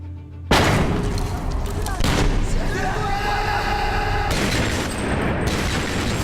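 Dense bursts of rapid gunfire and booming blasts from the video game Medal of Honor: Warfighter, nearly continuous and loud, with a voice talking over parts of it.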